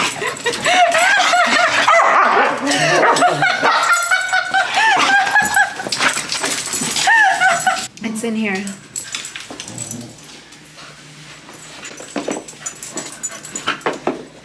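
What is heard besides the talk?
dog barking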